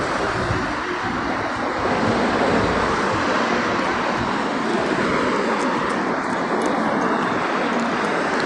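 Sea waves and gusty wind at a seaside in Thessaloniki, a continuous loud rush of surf and wind buffeting the microphone, with no clear talk.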